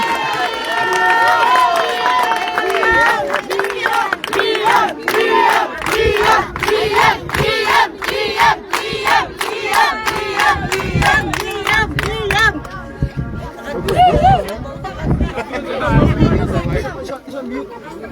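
A large crowd at a live music event in George cheers, whoops and claps loudly and continuously, with rhythmic bursts of applause and shouting filling the space before thinning out.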